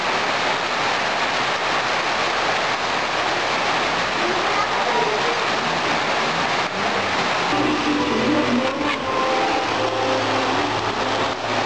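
Floodwater rushes steadily past a house front in Montalban, Rizal, a loud continuous wash of water filling the whole stretch, with people talking faintly underneath.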